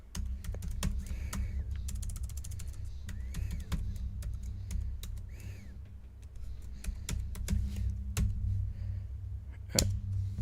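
Someone types a network password on a Chromebook keyboard, producing a steady run of soft, close key taps with a few louder strokes, over a low background hum and no talking.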